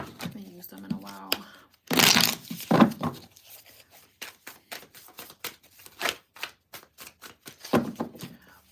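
Rapid riffling card shuffles, a run of crisp papery flicks in bursts, with a person talking briefly at the start and in between.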